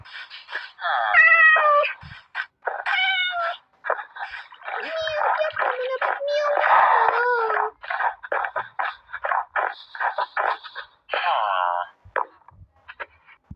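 Cats meowing in the Minecraft video game, several high harmonic meows repeating in quick succession with game sounds between them, loud and close, with no talking.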